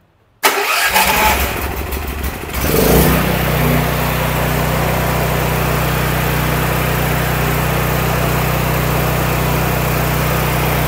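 A portable generator engine cranks and catches after a short silence, sputtering briefly before settling into a loud, steady, even running drone that continues to the end.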